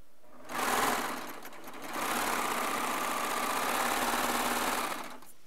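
A Baby Lock serger sews jelly roll fabric strips in two close, steady runs of fast whirring stitching, the first short and the second lasting several seconds, with no talk over it.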